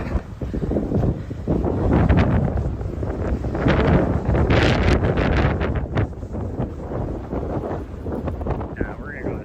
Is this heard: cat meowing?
no